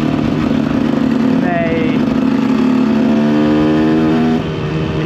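A KTM EXC 125 two-stroke dirt bike engine, recorded loud and close from the rider's position, revs up with a rising, buzzing pitch, holds high, then drops off near the end, with a brief spoken word.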